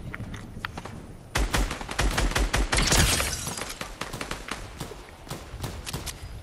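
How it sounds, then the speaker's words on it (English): Rapid gunfire from a weapon in the Fortnite video game, starting abruptly as a dense burst of loud shots, then continuing as scattered, quieter single cracks and short volleys. "This fucking gun sucks."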